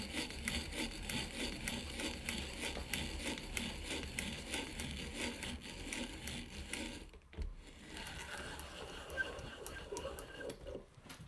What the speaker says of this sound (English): I also keep a couple of auger bits in here in the sizes I use most, and it's really fun to drill holes with these.